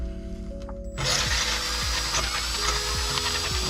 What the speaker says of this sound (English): one hole right up here that needs to be drilled out to